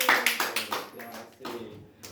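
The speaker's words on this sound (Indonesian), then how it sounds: "Mungkin itu tepuk tangan untuk kita semua." A small group in a micro-teaching class claps together, a short run of about seven or eight separate rhythmic claps at close range, with a voice briefly audible among them.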